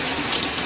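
Lukewarm water pours steadily into a spa tub at a wine spa, a dense, constant rushing gush that stays loud and even with no pauses.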